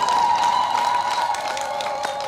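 A church congregation applauds their parish priest at a fundraising harambee, with a dense spread of clapping and a sustained tone over it, fading slightly toward the end.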